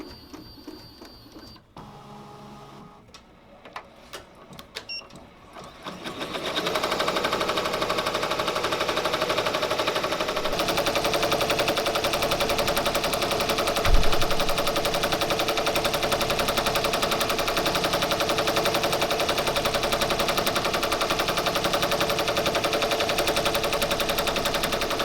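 A computerized embroidery machine stitches a tablecloth at 770 stitches per minute, starting after a few quiet clicks and settling into a steady, loud, rapid mechanical chatter that runs continuously, with one brief thump partway through.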